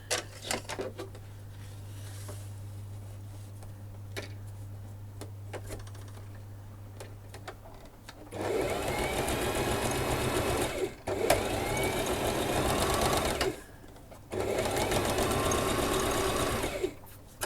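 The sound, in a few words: sewing machine stitching a blank journal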